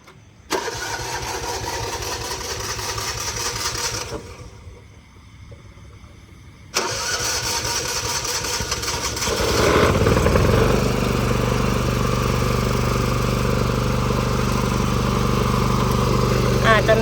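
An older Japanese Yanmar UP-2 petrol ride-on tractor cranks and catches after a brief pause, then settles into a loud, steady idle close by. Someone talks over the first part.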